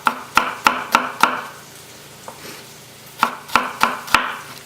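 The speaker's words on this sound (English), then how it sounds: "holding the onion and maintaining that claw shape, you want to slice down." A knife chops an onion on a cutting board for a breakfast hash: two quick runs of four crisp, evenly spaced thuds, close and loud, with a single lighter tap in the quiet gap between them.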